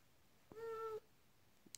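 A pet cat gives a single clear meow of about half a second, close and fairly quiet against a near-silent background.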